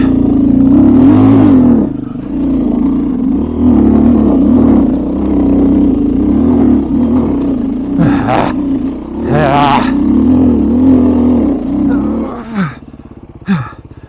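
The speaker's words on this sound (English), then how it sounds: "I cannot get enough traction to climb up this. It just spins." A 2021 Beta 500 RRS dirt bike roars at high revs on a steep climb of a Colorado mountain road while its rear wheel spins without traction. The engine drones loud and steady with several sharp rev surges and a few brief drops.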